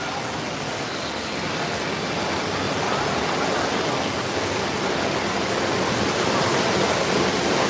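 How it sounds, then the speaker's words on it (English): A strong current of water rushes at a water park, producing a loud, steady, close roar of broadband flow that continues unbroken throughout with no talking. "Whoa, the strong current of the water."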